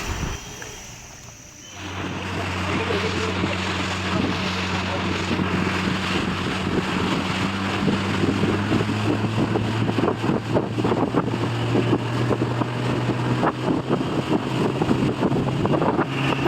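Motorboat ride across open water near Langkawi island, a loud, steady engine drone with rushing wind and water buffeting that begins after a quieter opening, people talking over the noise.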